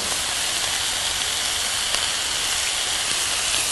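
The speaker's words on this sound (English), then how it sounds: "We're going to let this simmer." An Italian dish bubbling in oil in a pan on the stove gives off a steady, loud hiss that runs evenly throughout, close and unbroken, with no voices.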